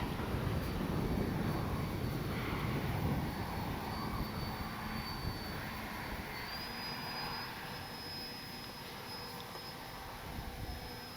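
A Kavan Pulse 2200 V2 radio-controlled airplane's engine whines overhead on a windy day, fairly faint, its pitch rising and shifting, with wind noise underneath.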